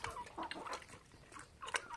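Chickens clucking nearby in a rural yard, with a series of short, irregular clucks and squawks of moderate loudness and no talking.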